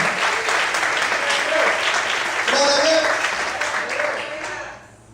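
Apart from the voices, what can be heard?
church congregation applauding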